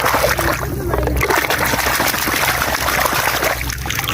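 Water splashing and trickling continuously over toy vehicles being washed clean of paint, a close, steady rushing flow with no talk.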